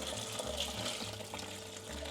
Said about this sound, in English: I need to add the water. So I have 8 cups of water.